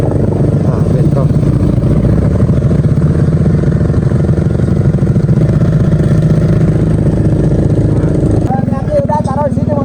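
A motorcycle engine running loud and close on a rocky village road, a constant rattling drone with clattering that dips near the end as voices come in.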